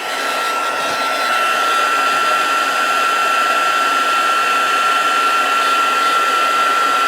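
A heat tool runs steadily and loudly for the whole stretch, drying paper coloured with water painters for a stamped cottage wreath card. The blowing hum is constant with a steady high whine and no talk.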